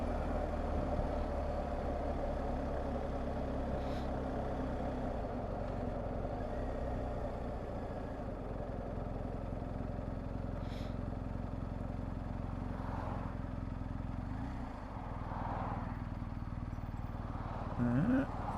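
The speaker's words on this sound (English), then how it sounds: "Vehicles coming down the other side." Road traffic with trucks and cars rolling past near a police scene, a steady low engine rumble and tyre roar throughout, with a couple of vehicles swelling closer toward the end.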